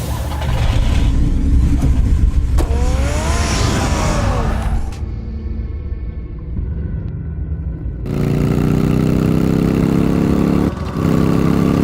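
Batman's car in Batman: The Telltale Series: a loud engine rumbles and revs through the first half with rising whines, cuts out, then roars back in strongly for the final stretch, with some talk.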